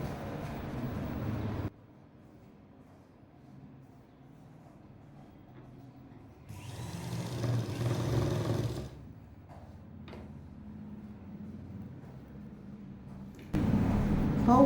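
Sewing machine stitching around the round neckline of a blouse, a steady close mechanical whir in two longer runs with quieter gaps between, starting again loudly at the end.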